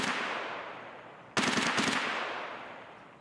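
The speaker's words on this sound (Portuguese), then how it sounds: "Cara, que tiroteio é esse?" Gunfire in the video game Escape from Tarkov: a loud, sudden burst of rapid automatic shots cracks in after a stretch of distant rumbling battle noise, then trails off into echoing background.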